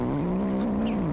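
A cat in a small town simulator video game gives a sustained, wavering meow or caterwaul lasting just over a second, loud and close, with no talking.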